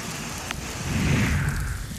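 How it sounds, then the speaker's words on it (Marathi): Heavy rain pours down in a dense, continuous roar, swelling slightly in the middle of the short stretch, with no voices. "अमरावती शहरात तुफान पाऊस होतोय"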